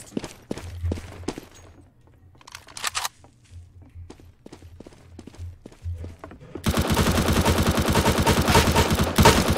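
Rapid gunfire from the Roblox shooter Counter Blox, starting as scattered single shots and clicks, then bursting into a loud, dense, continuous volley over the last few seconds.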